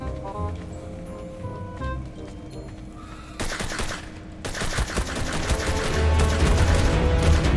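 Gunfire in ARK: Scorched Earth, starting as scattered shots and swelling into dense, loud rapid bursts of automatic fire over the second half.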